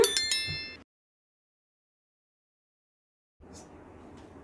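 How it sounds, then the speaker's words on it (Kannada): A single bright bell-like ding rings out at the start and fades quickly, followed by silence and then faint low background noise. "ಪಕ್ಕದಲ್ಲಿರುವ ಬೆಲ್ಲೈಕನನ್ನು ಕೂಡ ಪ್ರೆಸ್ ಮಾಡಿ"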